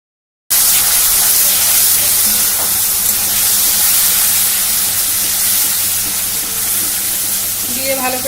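Water poured into frying masala for a Bengali egg curry sends up a loud, steady sizzle and hiss that carries on for several seconds with no voices.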